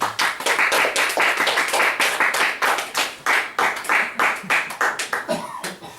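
A church congregation at Washington Dongsan Church claps loudly in a dense, slightly pulsing burst that runs steadily for about six seconds, close and with no talk over it.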